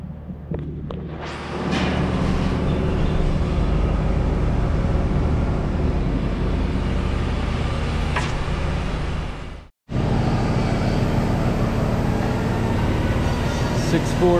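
Hemi V8 in a Jeep Rubicon built on Dana 60 axles runs with a steady, loud, rumbling idle. The engine drones close and continuous, cuts out sharply for a moment, then resumes just as loud.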